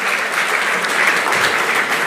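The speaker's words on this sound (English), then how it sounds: "let's give another warm round of applause, please, to CJ Emeritus Professor Willie Mutunga." Audience applause at a book launch for Martha Karua's 'Against the Tide' at Thee Alpha House, a dense, steady wash of many hands clapping throughout, loud and sustained with no break.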